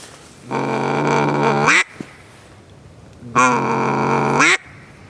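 Two exaggerated practice blasts on a duck call using a gwit syllable, each a loud, sustained reedy quack about a second long that rises sharply at the end, separated by a short quiet gap.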